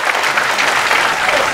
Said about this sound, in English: Yeah, but why are you clapping?